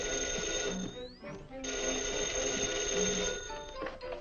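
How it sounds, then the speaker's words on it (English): A telephone rings with a bright, continuous electronic trill, loud and close, briefly interrupted by a sweeping tone before ringing on. "Why didn't she say the phone was ringing?"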